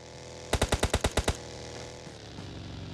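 A rapid burst of about eight sharp gunshots fired in a tight automatic rhythm during a competitive video game match, loud and close, followed by quieter in-game ambience with no talking.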